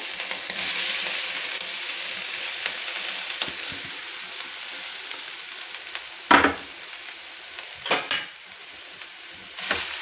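Grated amla fries in a little hot oil, a steady close sizzle with scraping stirs from a spoon and a few sharper clinks against the pan, no one talking.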